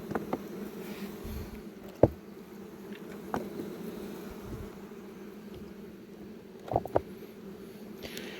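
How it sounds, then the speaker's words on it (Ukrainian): Honey bees buzz faintly around extracted honey frames at a Carpathian apiary, a low steady hum broken by a few louder passes as individual bees fly close. "Якщо нема взятку, то моментально бджола прилітає на такі рамки і не дає робити."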